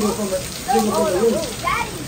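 Steady rain hiss from a tornado storm runs throughout, with several people talking and exclaiming over it.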